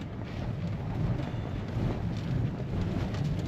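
A storm blows outside a tent during a fishing trip, with wind buffeting the microphone in a continuous low rumble. The gusts swell and ease, loud and close, and no one speaks.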